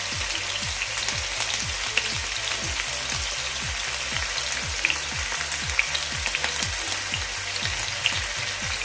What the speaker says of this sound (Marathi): आलं लसूणची पेस्ट टाकून घेते तिचा कच्चेपणा जाईपर्यंत फक्त आपण परतून घेऊया